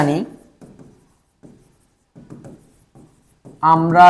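A teacher writes on a classroom board during a Class 5 maths lesson, giving soft, scratchy strokes in short bursts with pauses between them. A voice talks at the start and again at the end.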